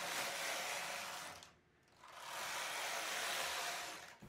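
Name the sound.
knitting machine carriage knitting rows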